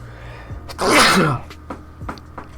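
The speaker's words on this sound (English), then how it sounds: "I'm gonna sneeze again" A single loud, close sneeze bursts out after a short intake of breath, followed by a few quiet clicks and small noises.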